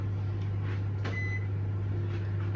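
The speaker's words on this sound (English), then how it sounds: "That's the peas beeping in the microwave" A short electronic beep from a microwave oven heating peas sounds over a steady low appliance hum, with faint kitchen clatter around it.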